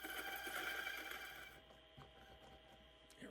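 A Huanyu 64mm flat burr titanium espresso grinder set to 800 RPM gives a faint, steady whirring hum that fades partway through, leaving a quieter drone with a few soft clicks near the end.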